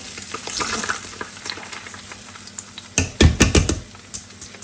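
Pulao frying in a pot and being stirred, a steady sizzle with scraping, clattering bursts of spoon against metal partway through, close and alone without talk.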